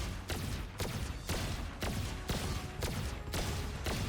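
Gunshots in Valorant aim practice against a moving target's head, fired in a steady rhythm of about eight sharp cracks over continuous background noise, close and loud.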